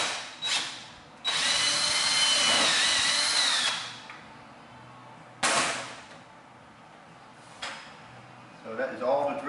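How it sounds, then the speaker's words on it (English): A power drill bores injector ports into a Corvette C8 intake manifold in a workshop, with long close whining bursts separated by pauses and shorter final spurts, plus light clattering at the end. "So that is all the drilling."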